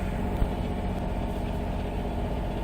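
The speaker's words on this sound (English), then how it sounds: "Left the deck washdown pump running." On a sailboat, a deck washdown water pump runs with a steady, dense mechanical hum and low drone, constant and close throughout, with no voices over it.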